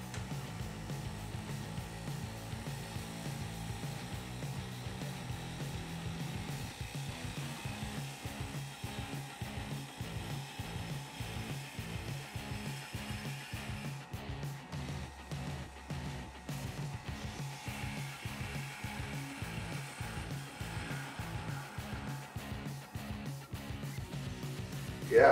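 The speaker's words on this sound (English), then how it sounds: "I'm going to try my 1/4 inch bowl gouge now" Wood turning on a lathe with a 1/4 inch bowl gouge, a steady rhythmic scraping and cutting with a faint motor hum, quiet and close, with no talk.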